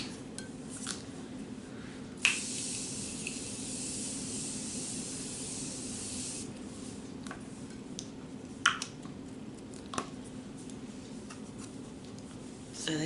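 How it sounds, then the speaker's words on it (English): A spray can hisses in one sustained burst of about four seconds during makeup application, set against a quiet room with a few scattered clicks and taps before and after. "Hold on, I got spray."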